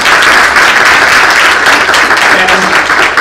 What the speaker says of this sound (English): Round of applause for our winner.